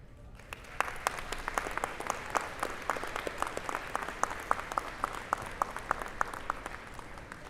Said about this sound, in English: express yourself with applause, cheers, and thank yous to all your loved ones